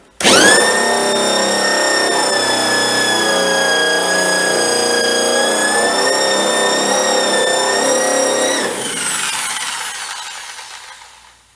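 A rotary paint-stripping tool fitted with a roll grinds dark green paint off a truck, holding a loud, steady, high-pitched motor whine for about eight seconds before winding down.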